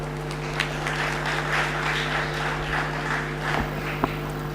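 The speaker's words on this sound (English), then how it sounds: "let's give a round of applause to sir" Conference audience giving a steady round of applause at an international academic event, a continuous even patter of many hands over a constant electrical hum.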